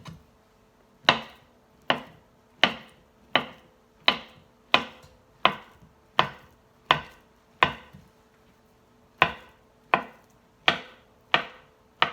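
A knife slices a peeled banana on a cutting board for banana bread, crisp evenly spaced taps against the board, about fourteen cuts with one short pause, close and clear with no talking.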